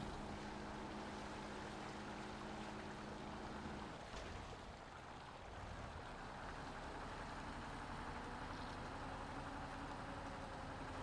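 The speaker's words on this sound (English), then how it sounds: "you can hear the engine working a lot harder than it was before" A heavy truck engine labors under a load of logs in Spintires: MudRunner, a steady low drone that dips briefly partway through and then resumes, with no talking.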